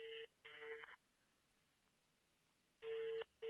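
An outgoing telephone call rings on the line: quiet paired ringback tone bursts, one pair at the start and another after a short silence.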